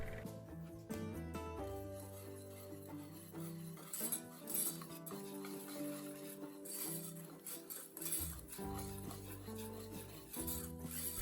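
A spoon stirs a foaming mixture of toothpaste and baking soda, giving a steady close scraping and rubbing against the bowl over soft background music.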